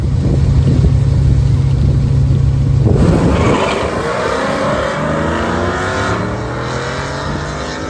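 A Dodge D100 farm truck with a Speedmaster head and solid roller cam launches wide open down a drag strip with its tires spinning: a loud, roaring engine that climbs and surges steadily under continuous tire noise, close and unbroken.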